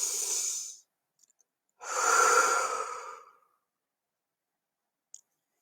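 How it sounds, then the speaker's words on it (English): Two slow, breathy airflow sounds of a person breathing, a short one then a longer, fuller one, close and quiet, followed by silence and a tiny click. "Taking a breath here."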